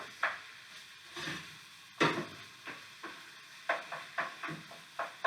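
Ground turkey sizzles in a hot pan while a utensil breaks it apart, soft steady frying under a series of distinct scraping, tapping strokes at an uneven rhythm, close and fairly quiet.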